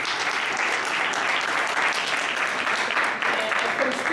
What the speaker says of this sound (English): So let's give him a clap.